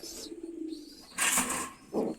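Racing pigeons coo close at hand: a soft, low coo comes first, followed by two louder, throatier bursts.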